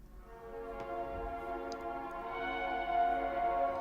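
A sustained synth lead with subtle overdrive distortion plays with a slightly gritty, crunchy edge, holding steady tones over a low rumbling bed.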